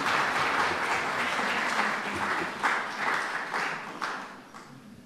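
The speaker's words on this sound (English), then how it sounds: "Round of applause." A church weekend audience applauds steadily for about five seconds, dense and sustained, fading slightly toward the end.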